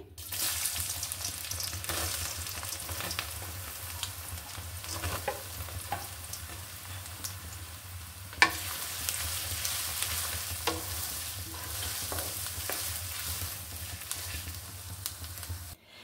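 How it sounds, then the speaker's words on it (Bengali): Chopped onions fry in hot mustard oil with a steady, close crackling sizzle, broken by occasional clinks and stirring taps from a utensil against the pan. "তেলটা আমার গরম হয়ে গেছে, দিয়ে দিচ্ছি পেঁয়াজ কুচি"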